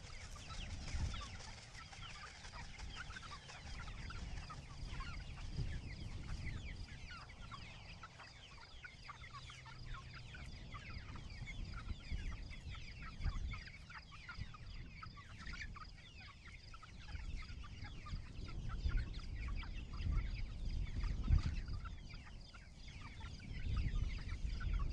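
Chickens on a chicken farm cluck continuously, a dense chorus of overlapping clucks from many birds at close to mid distance, steady throughout.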